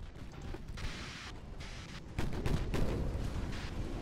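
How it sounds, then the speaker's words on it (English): Torpedo hits exploding on warships in the naval battle game Ultimate Admiral: Dreadnoughts, a faint, muffled rumbling backdrop that swells into a louder burst of booms partway through. "Oh, we hit somebody with torpedoes."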